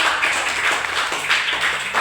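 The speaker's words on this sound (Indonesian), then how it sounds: "kasih tepuk tangan untuk teman di belakang" A class of grade 4 and 5 primary school pupils claps hands together for a classmate, a dense patter of many quick overlapping claps that swells and dips.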